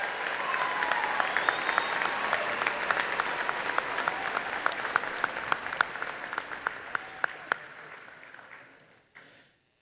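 At Whitman Hanson High School's 2019 commencement, the audience gives a dense round of applause for the class of 1969. It thins to scattered claps and stops near the end.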